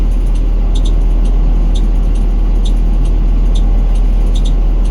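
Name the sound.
bus engine running during DMV pre-trip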